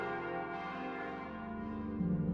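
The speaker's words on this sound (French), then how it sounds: "Elles peuvent être interrompues quand la cloche les appelle pour les offices qui règlent la vie monastique" A monastery church bell tolls with a sustained, ringing tone that stays steady and prominent, swelling slightly louder near the end, with no voices.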